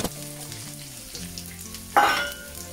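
Sizzling from a frying pan runs steadily under a faint tonal hum, with a sudden louder burst of hiss as onion hits hot oil.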